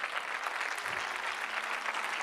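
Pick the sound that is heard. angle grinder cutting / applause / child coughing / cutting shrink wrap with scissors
applause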